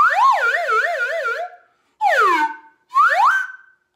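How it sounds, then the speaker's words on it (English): A slide whistle plays a wobbling, warbling run of notes, then two short sweeping glides, loud and close with brief silences between. "This is a slide whistle."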